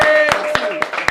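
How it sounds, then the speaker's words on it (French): Four sharp, widely spaced hand claps from an audience at a live-streamed show, each loud and brief, sounding over continuous music and voices. "Applaudissez-les"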